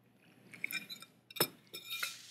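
Jaggery being stirred into a batter in a bowl, a spoon knocking and clinking against the bowl in several irregular, close strikes with soft wet scraping between them.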